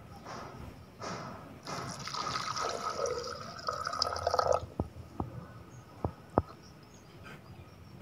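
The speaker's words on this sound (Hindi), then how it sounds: "सबसे पहले जग में पानी डालना है।" Water pours into a jug in a steady splashing stream that stops, followed by a few scattered drips and light taps.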